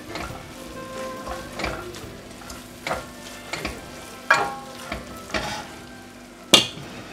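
Coriander and turmeric paste stirred as it fries in a pan, with a steady sizzle under repeated scraping strokes of the spoon against the pan and a few sharp clinks.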